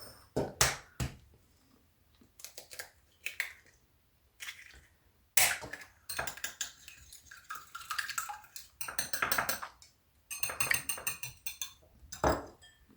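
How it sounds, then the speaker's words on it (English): An egg whisked in a bowl for cream puff batter, brisk clinking strokes in irregular bursts separated by short pauses, close and fairly quiet. "You probably don't even have to whisk that egg up like I do"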